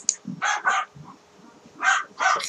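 A dog in the 8BitMMO online game barks in short bursts, two quick barks, a pause, then two more, sharp and close, with a faint low voice murmuring between them.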